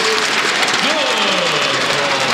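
Arena crowd at the 2009 World Weightlifting Championships cheers a 94 kg clean and jerk lift, a dense, steady roar of applause and voices filling the whole moment while a commentator talks over it.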